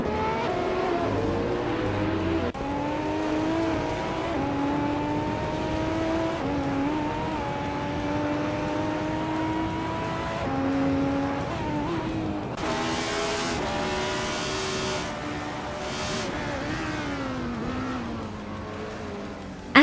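2012 Audi R8 Spider GT race car at racing speed, engine note rising and shifting through gears continuously, with a brief burst of tire squeal or scraping midway and no talking.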